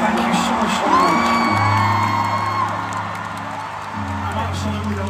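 A large concert crowd in Bangkok cheers, whoops and yells loudly and steadily after an opening set on a 2024 concert tour, the roar easing slightly toward the end.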